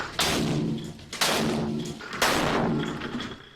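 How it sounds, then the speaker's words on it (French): A detonator sets off 50 grams of mercury fulminate, producing three loud, booming blasts about a second apart. Each has a sharp onset and a rumbling decay. "C'était une belle explosion, mais les vitres n'ont pas éclaté."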